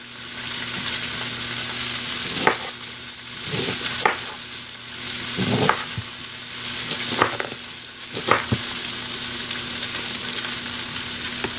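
Sliced cabbage frying in a pan, piled high: an even, steady sizzle with a few sharp utensil scrapes and knocks at intervals, close by, with a faint steady hum beneath and no talking.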